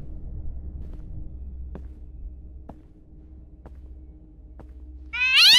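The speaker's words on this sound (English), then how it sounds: "It looked like a bird, but it made a sound of a cat." A single loud, close cat meow bursts out at the very end, following a low droning hum and a few soft evenly spaced ticks, in a Chilla's Art horror video game.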